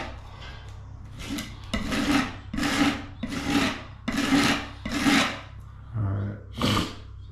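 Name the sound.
putty knife scraping excess compound on textured wall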